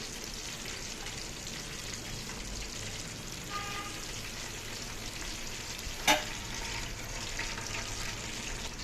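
Chicken leg pieces fry in hot oil with a steady, even sizzle that runs throughout, broken by one sharp clink near the end and no talking.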